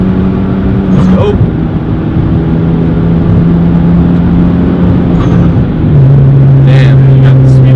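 A 2013 Hyundai Genesis Coupe 2.0T accelerates hard in third gear, its steady turbocharged engine drone loud and close from inside the cabin throughout, shifting pitch near the end.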